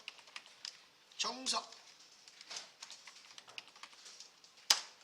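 Soft, irregular taps on a computer keyboard, quiet and close, with a sharper key click near the end and a voice speaking briefly over it.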